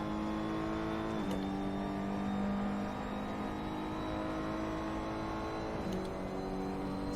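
Ferrari 488 GT3 race car engine in Assetto Corsa, a steady loud whining drone with two brief dips around gear changes, continuous and alone without talk.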